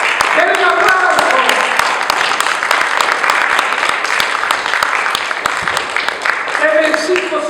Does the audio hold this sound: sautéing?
no